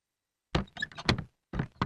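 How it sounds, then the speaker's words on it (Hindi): A door being shut indoors gives a few close, solid thuds and knocks in quick succession, then one more bump after a short pause, with no voices. "दरवाजा क्यों बंद किया?"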